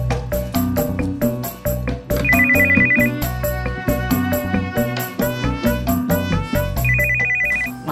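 A mobile phone ringtone plays for an incoming call at a street-side cendol drink stall, a loud repeating electronic melody with steady rhythmic beats and bright chiming tones running continuously, with no talk over it.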